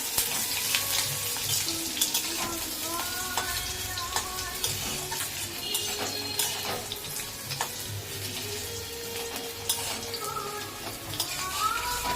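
Crushed ginger frying in a pan gives a constant busy sizzle with frequent stirring scrapes and clinks, nearby and fairly loud, with a faint watery hiss running underneath and no speech.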